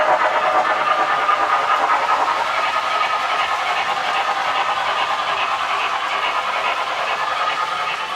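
MTH GS-4 Proto 3 model passenger train running under power, a loud continuous hiss of steam-style sound effects with a faint rhythmic clatter, unbroken throughout.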